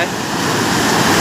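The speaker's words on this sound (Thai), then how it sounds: "น้ำไหลครับผมน้ำไหลน้ำไหล" Rushing water flowing heavily during a rainstorm near a house, a loud steady broadband roar with no pause.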